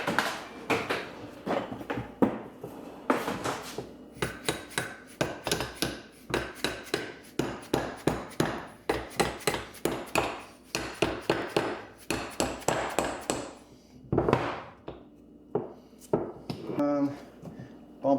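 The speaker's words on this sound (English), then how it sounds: "you might have to tap it in with a hammer just a little bit, or a rubber mallet" A long run of sharp, solid knocks from a rubber mallet tapping a suspension part into a Corvette C8, struck in quick bursts with short pauses, close by and with no talking.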